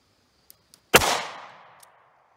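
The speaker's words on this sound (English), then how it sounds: "And I am firing from about 4 feet away." A 38 Special +P short-barrel revolver firing a 135 grain Gold Dot round gives a single sharp, loud report with a ringing decay, preceded by two faint mechanical clicks.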